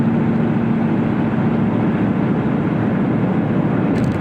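A truck drives by on a road during an afternoon test drive in a 2019 Chevrolet Suburban RST, its engine and tire roar heard as a steady, loud, broad rumble throughout with no talking.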